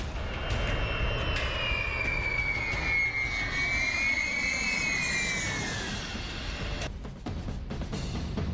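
A B-52 bomber passes with a loud, continuous jet engine roar, a whining tone rising and then falling as the aircraft goes by.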